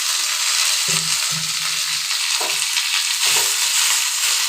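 Cauliflower leaves frying in a hot pan, a steady loud sizzle with soft scraping stir strokes underneath, and no talking.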